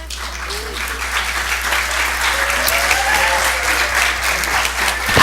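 An audience at an evening school board meeting applauds and cheers steadily for an elementary school's showcase, with a dense, sustained wash of clapping and voices throughout.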